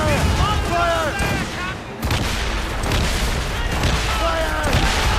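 Ship cannons fire from a sailing vessel in the naval battles of Assassin's Creed Rogue, a dense run of heavy booms and rumbling blasts filling the clip while shouting voices cut through in bursts.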